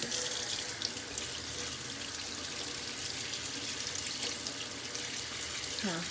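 Steady running tap water splashing into a sink as hands are washed with homemade squishy soap, continuous and close throughout.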